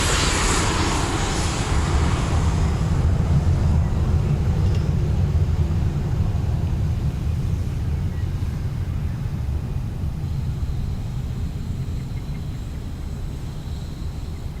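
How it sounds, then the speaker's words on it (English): A Ryanair airliner taking off from Dublin Airport, bound for Marrakesh, its broad jet engine roar loudest at the start and then slowly fading as it climbs away. "Ryanair off to Marrakesh, Morocco"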